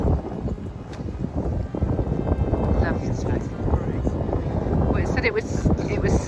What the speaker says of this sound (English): there is a bit of a breeze, as you can probably hear